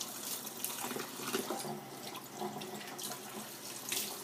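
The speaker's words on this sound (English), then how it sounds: "So I'm just going to wash the mint off." Kitchen tap water runs continuously as fresh mint is rinsed under it, a close splashing stream with small fluctuating bursts where the leaves break up the flow.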